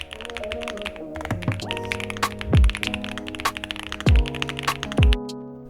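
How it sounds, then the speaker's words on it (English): Typing on a YUNZII AL68 keyboard fitted with Cocoa Cream v2 switches, a steady stream of close, crisp keystrokes with a few heavier thocks, likely spacebar presses, over a faint background hum. "this is one of the most satisfying keyboards I have used. I mean, just listen to this."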